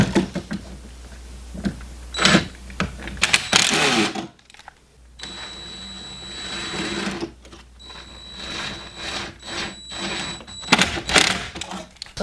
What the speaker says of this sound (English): I'm using this 90-degree screwdriver adapter head to drive in the screws.